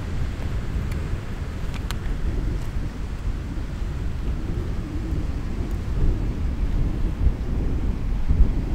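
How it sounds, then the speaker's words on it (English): Wind buffeting a microphone outdoors on Lanzarote, a continuous loud low-pitched rumble and roar lasting the whole stretch, with no other sounds standing out. "I think it's windy."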